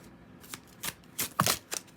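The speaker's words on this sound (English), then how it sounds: "I'm going to shuffle this one." A pile of playing or tarot cards being shuffled by hand in a quiet room, a series of crisp riffling bursts in quick succession, close and alone.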